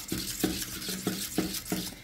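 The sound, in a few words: whisking soup egg-lemon sauce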